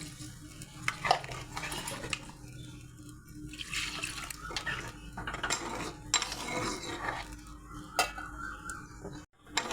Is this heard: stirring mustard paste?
yes